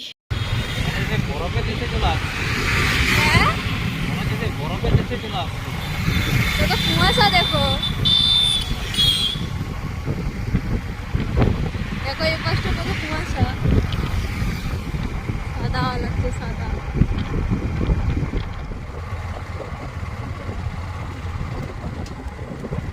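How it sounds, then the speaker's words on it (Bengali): A motorcycle rolls slowly along a road, its engine a low steady rumble mixed with wind noise, with people talking over it the whole time. "জোর করে আমরা বাইক চালাতেও পাচ্ছি নি তো আমরা আস্তে আস্তে ধিকি ধিকি করে যাচ্ছি"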